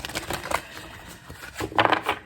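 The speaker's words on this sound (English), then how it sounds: "I'm trying not to be so loud with the card shuffling" Quick riffling and soft slapping of tarot cards being shuffled, in a few short bursts with a louder flurry near the end.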